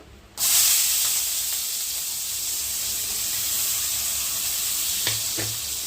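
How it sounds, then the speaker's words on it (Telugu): Loud, steady sizzling of onions frying in hot oil, starting abruptly and continuing throughout, with a couple of soft stirring knocks near the end. "ఇదే నూనెలో మటుకు ఉల్లిపాయలు వేసుకున్నాము."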